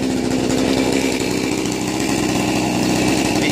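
Chainsaw ripping lengthwise through a log in a chainsaw mill setup, the chain running without rakers on an unevenly worn bar; a loud, steady, close engine roar with a constant cutting rasp throughout, no pauses or voices.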